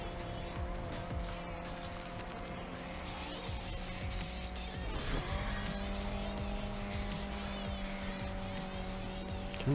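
A race car in the video game Need for Speed Unbound holds a steady engine whine while its tires squeal through a skid midway. The sound is fairly faint and no one talks.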